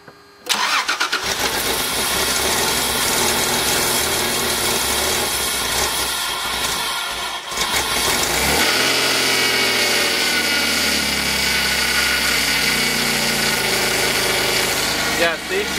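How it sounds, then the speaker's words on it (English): A 1994 Toyota 4Runner engine cranks and starts, then runs loudly and steadily, rough and rumbling, barely running, close by, with a shift in pitch partway through. "I'll start the motor"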